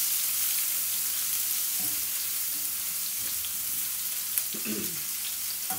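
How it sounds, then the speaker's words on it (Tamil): Onion frying with cumin seeds in a pan sizzles steadily and close by, with a few soft knocks and stirring touches over the continuous hiss, without speech. "ஜீரகம் நல்லா பொரிஞ்செடுத்து இதில் வந்து நான் வந்து வெங்காயம் போட்டுறேன்"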